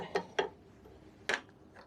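Three sharp, faint metallic clicks, two close together and one after a pause, as an oil filter is screwed on by hand during a first service on a 2024 Royal Alloy GP300SE scooter.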